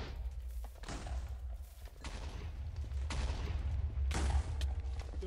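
TNT blocks in the Minecraft video game detonate together in a chain of four heavy, booming blasts at roughly one-second intervals, each a loud burst that rumbles into the next, with no talking.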